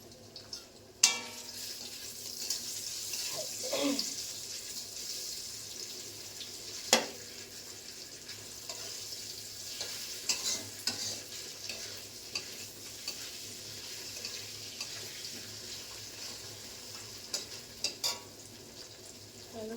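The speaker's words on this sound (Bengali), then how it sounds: "এখানে আমি এখন ফুলকপিগুলোকে লাল লাল করে একটু ভেজে নিচ্ছি" Cauliflower florets stirred and fried in a pan until browned, giving a steady close sizzle with occasional sharp scrapes and clinks of the spoon against the pan; no voices.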